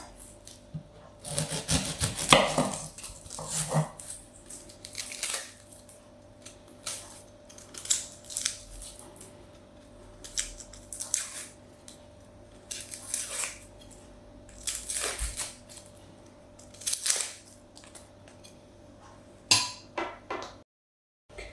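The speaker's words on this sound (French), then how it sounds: "la première étape, il s'agira de peler et d'émincer finement les oignons" A knife works through onions on a wooden board, peeling then finely slicing, with steady rubbing and scraping strokes and irregular close cuts over about twenty seconds.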